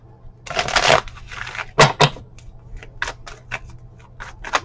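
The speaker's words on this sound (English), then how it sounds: "I need to shuffle again." Tarot cards being shuffled by hand close up, a few quick riffling bursts and papery snaps separated by short pauses, with no talking.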